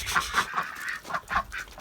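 Ducks let out of a coop on a rainy day give a rapid run of close, loud honking quacks, about five or six calls in quick succession.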